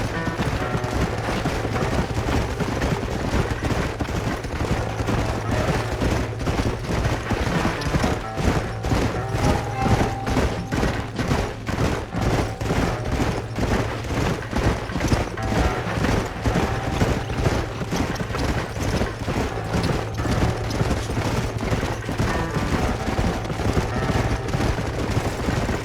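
Horse hooves clip-clopping in the Red Dead Redemption video game: a rapid, even beat of hoof strikes runs for the full stretch, mixed with a constant bed of game sound and occasional sharp bangs.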